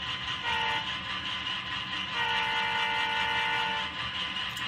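Scaletrains BNSF GE C44-9W model locomotive sounding its horn in two sustained blasts, the second longer, over a steady electronic engine rumble.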